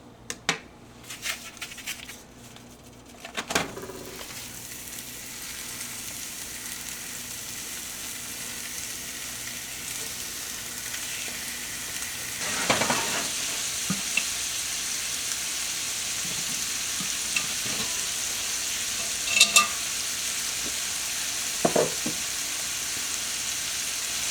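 Steady sizzling of sausage frying in oil in a cast iron pan, continuous throughout with a few louder pops and clatters of utensils now and then.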